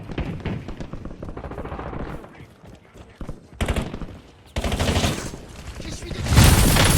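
Gunfire in the Call of Duty: Warzone video game, heard as dense bursts and bangs that come in clusters over several seconds and grow louder near the end, with a voice speaking underneath.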